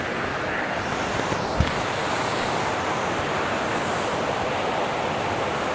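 Waterfall deep in a Wayanad forest, a dense, steady roar of rushing water filling the whole clip, loud and constant, with one brief knock partway through and no speech.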